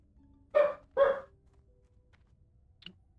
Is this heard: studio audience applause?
no